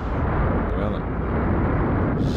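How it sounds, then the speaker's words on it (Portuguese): An energy shot in a Dragon Ball video game blasts into the ground, giving a loud, continuous, roaring rumble that stays dense and steady for its full length. "Eu posso dar um tiro no chão aqui"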